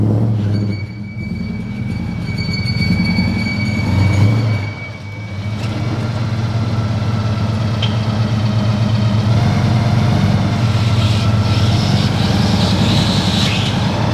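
A 5-litre Holden VR SS V8 runs on a dyno with a continuous, loud, low droning rumble and a slight surge partway through, with no talk over it.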